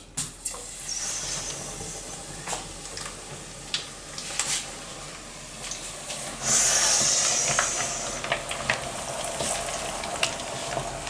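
Chicken pieces fry in a pan, a constant crackling sizzle with scattered pops and utensil clicks, swelling into a louder hiss burst midway before settling, close by with no one speaking.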